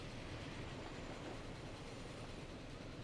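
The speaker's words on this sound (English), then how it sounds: "Another train." A train on a branch line in the Transport Fever video game rumbles along in a steady, dense, moderately loud roar with no clear breaks, alone and without talk.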